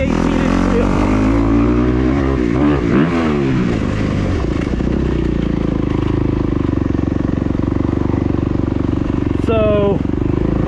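A 2021 Kawasaki KX250X motocross bike runs loud and close on a home motocross track, its engine note rising and falling through revs and shifts, with a sharp rev sweep near the end.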